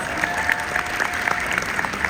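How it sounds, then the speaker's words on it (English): A political gathering's audience claps for the party staff, a brief burst of crowd applause with a few sharper individual claps standing out from the steady patter. "So let's give them a round of applause."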